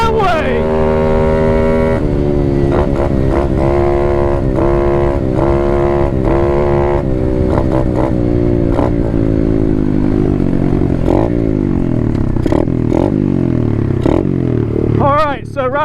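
A Chinese Apollo 125 RFZ dirt bike runs loud and close at high speed, its engine note holding steady and rising through gears, with wind buffeting throughout and a brief voice near the end.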